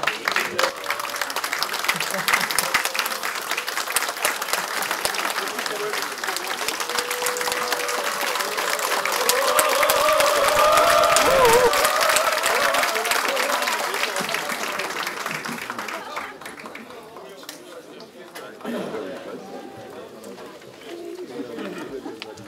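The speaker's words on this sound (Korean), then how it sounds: "박수 한번 받으십시오" Sustained applause from the crowd at the Democratic Party floor leader election, dense clapping that swells in the middle and eases off, with a faint voice and a brief tonal sound partway through.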